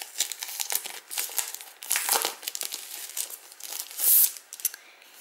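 A Spellbinders Tim Holtz paper collection pad is opened and handled close up, giving continuous crinkling and crumpling of paper and plastic wrap with a few sharper tearing rips and no talking.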